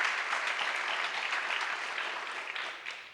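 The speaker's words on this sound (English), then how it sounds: "why don't we give a round of applause to Ramesh and the team that put this beautiful event together" Audience applause for the event organizers at a manufacturing industry event, a dense sustained clapping from a crowd lasting throughout, tapering slightly toward the end.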